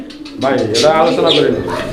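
A pair of pigeons, including a magpie pigeon, giving short throaty coos close by, mixed in with someone talking at the same time.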